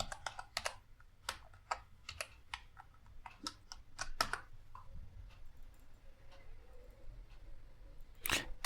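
Code is typed on a computer keyboard in quiet, irregular bursts of crisp key clicks, with short pauses between runs of strokes.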